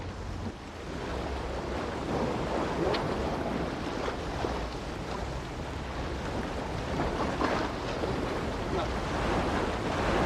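Waves and strong wind roar continuously on a French surfcasting beach, a full, close wash of surf with buffeting gusts against the microphone and no voices.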